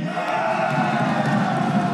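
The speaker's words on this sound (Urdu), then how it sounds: "اپوزیشن اراکین کی جانب سے چیئرمین ڈائس کا گھیراؤ کیا گیا اور مخالفت میں نعرے بازی کی جاتی رہی" Opposition senators crowd around the chairman's dais in Pakistan's Senate, chanting slogans in protest. The dense, steady roar of many voices shouting together carries on unbroken for the whole span.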